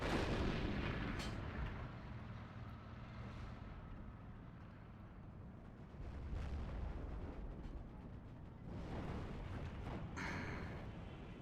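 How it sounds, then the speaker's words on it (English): Artillery fire striking a unit in a strategy video game match, distant booming blasts and rumbling impacts rolling in and out, fairly faint with no speech. "He's being targeted by artillery."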